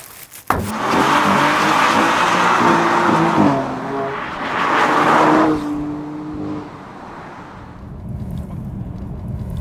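An F80 BMW M3 engine starts with a sharp crank and roars, revving loudly in rising surges, then settles to a lower, throbbing idle close by.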